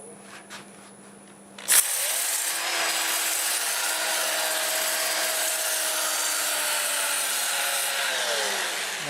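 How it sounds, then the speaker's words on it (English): A wood-turned segmented torus is sanded on the lathe with a 2-inch sanding disc and sheets of paper, a steady close rushing, abrasive hiss starting abruptly after a brief quiet and holding loud and constant to the end. "we'll sand the rest of this"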